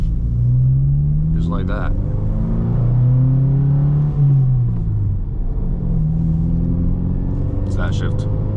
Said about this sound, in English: I'm going to clutch in, put in first gear, apply some gas, and come off to the bite point.